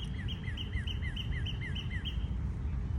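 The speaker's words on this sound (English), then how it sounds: "Get you some birds chirping" Small birds chirp steadily outdoors, a repeating series of bright high tweets at an even rhythm over a constant low rumble of wind or background noise.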